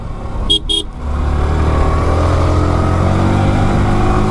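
A Yamaha R15 motorcycle in a street bike race speeds past close by, its engine note rising into a loud sustained roar after a brief double horn toot at the start.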